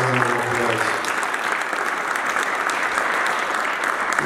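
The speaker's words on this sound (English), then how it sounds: "let's give them a round of applause." Loud, dense applause from an audience at a New York City Council celebration, sustained evenly throughout with no talking over it.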